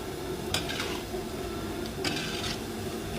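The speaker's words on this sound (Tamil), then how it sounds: "நல்லா கிளறி விடுங்க." A spiced fry being stirred in a pan, with a couple of sharp spoon scrapes and clinks against the metal over a low kitchen hiss.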